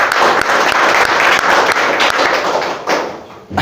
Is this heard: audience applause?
yes